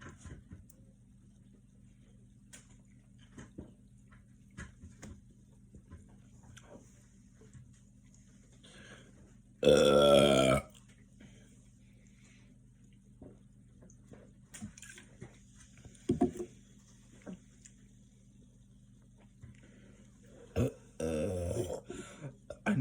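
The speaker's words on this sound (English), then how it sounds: "I need to stop burping." A person burps after chugging cans of Diet Pepsi Zero, with one loud, close belch partway through and a rougher, longer burp near the end, separated by quieter shuffling and small noises.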